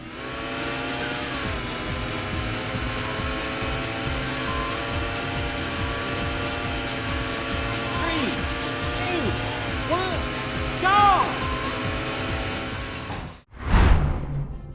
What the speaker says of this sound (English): There's just something hypnotic about blasting through the neon-lit tracks of Scud Race.